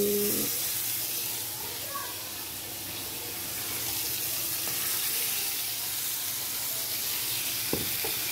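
Fish frying in hot oil in a pan, a continuous close sizzle that holds steady, with a few soft clinks and a brief voice early on.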